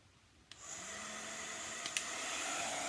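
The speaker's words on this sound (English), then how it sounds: "I'm going to take my little heat gun" A small heat gun used on a chalk art craft piece: a switch click, then a steady, close blowing whir with a constant high hiss that holds to the end, one faint tap partway through.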